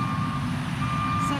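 A chip and seal road crew truck backs up near a barn, its reversing alarm beeping over a loud, steady diesel engine rumble close by.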